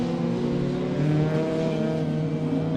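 Rallycross cars racing on the final lap at Mondello Park, a continuous loud engine drone with steady revving and a whirring roar, heard from a distance without a break.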